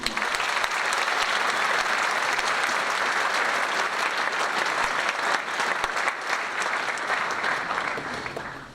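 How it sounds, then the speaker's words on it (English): Audience at a school matric valedictory service breaks into sustained, loud applause, a dense wash of many hands clapping at once that holds steadily before tapering off at the close. "Let's give them a round of applause."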